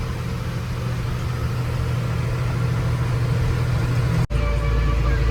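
A car engine droning steadily while driving on a road near Nelamangala, a constant low rumble from inside the cabin with a brief dropout near the end before the hum resumes.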